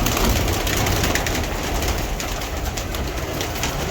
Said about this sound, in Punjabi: ਇਹ ਦੇਖੋ ਕਬੂਤਰ ਜਨਾਬ